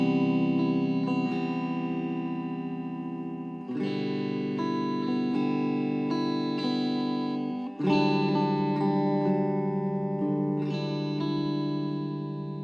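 Electric guitar picking a song's verse chords, playing loose, varied picking patterns through effects with distortion, chorus and reverb, in steady ringing phrases with chord changes about every four seconds and no talking.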